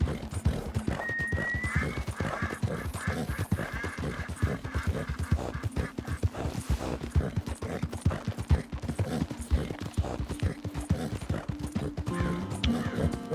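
A horse in the video game Red Dead Redemption 2 neighs while its hooves clip-clop in a steady rhythm, the neigh rising above the footfalls near the start and the hoofbeats continuing close and prominent.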